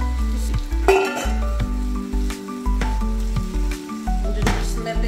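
Tomatoes sauté with garlic in a hot frying pan for an ampalaya dish, a steady close sizzle broken by clinks of a utensil stirring against the pan, with music playing underneath.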